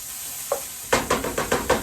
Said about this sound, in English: We're gonna stir that around a bit, let that get fragrant.